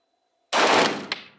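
A Canik Rival pistol fires at an outdoor shooting test in Marmaris, Turkey, with one sharp, loud close report that decays quickly, followed by a second, smaller crack or echo.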